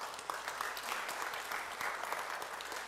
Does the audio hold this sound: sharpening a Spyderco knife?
no